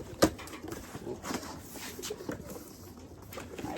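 Racing pigeons give soft coos and rustle in a loft, with a sharp knock near the start and a few faint calls scattered across a quiet background.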